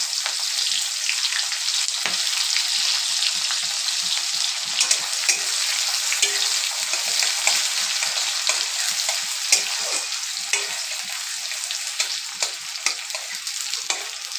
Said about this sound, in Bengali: লঙ্কাটা একটু লাল লাল হয়ে গেলে দিয়ে দেব পেঁয়াজ কুচি,